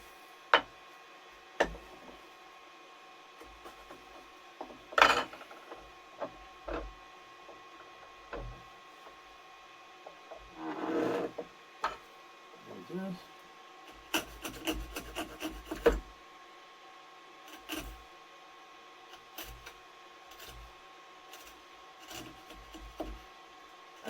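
A hand chisel pares a joint in wood, giving sparse dry taps and short scraping rasps. The sounds are faint and irregular, with a brief louder burst of rubbing chips partway through and no talking.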